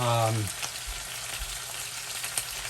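A steak fries in a pan with a steady, close sizzle. A short voice comes first, and soft crackles continue underneath.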